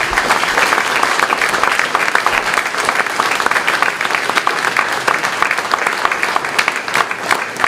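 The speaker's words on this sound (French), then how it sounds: "Je vous demande de l'applaudir bien fort." An audience applauds at a mayor's New Year ceremony in Campénéac, France, honouring a medal recipient, with dense, steady clapping from a sizeable crowd sustained loudly throughout.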